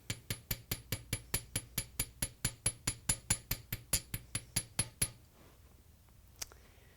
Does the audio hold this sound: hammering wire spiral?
yes